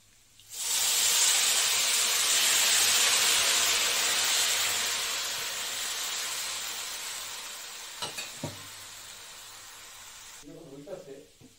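Water splashed into a hot pan while making an afternoon snack bursts into a loud, steady steam hiss that slowly fades over several seconds, followed by a few light clinks and a brief voice.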